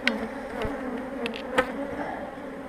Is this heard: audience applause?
no